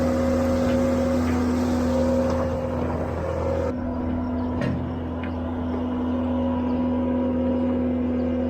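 A skid loader's engine runs steadily at a loud, constant drone with a steady hum, close by and continuous throughout, with no talking.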